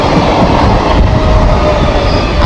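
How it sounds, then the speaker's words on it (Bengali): An Indian Railways Bandel–Katwa local train passes very close and loud, its steady rumble and rattling wheels filling every moment, with a faint squeal running through it. "ভারতীয় রেলের হাওড়া থেকে যাচ্ছে কাটোয়া, ব্যান্ডেল যাচ্ছে এই ট্রেনটা"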